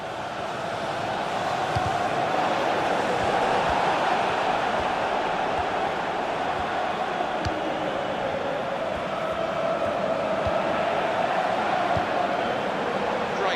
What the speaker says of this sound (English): Passing, and the crowd really enjoying it.